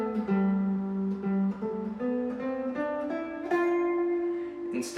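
A G Mixolydian scale played note by note as a demonstration, a single melodic line stepping upward at an even pace, clean and moderately quiet, with no talking.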